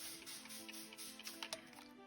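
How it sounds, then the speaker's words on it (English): Several quick hissing spritzes of a water spray bottle onto watercolour paper, close by and fairly quiet, a few short bursts in a row with soft ticks between. "I begin with wetting the page with my water bottle spray."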